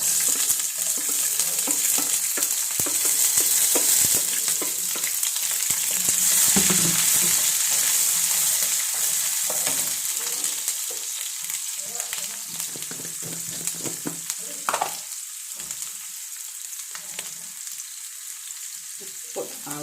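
A large onion fries in a pan with a loud, steady sizzle that lasts throughout, while occasional stirring scrapes cut in. The hiss eases slightly toward the end.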